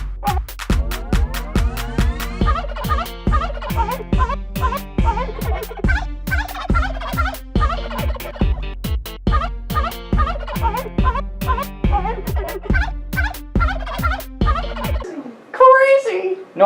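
A turkey gobbles repeatedly in quick rattling bursts, the calls layered over a rhythmic plucked backing that stops near the end.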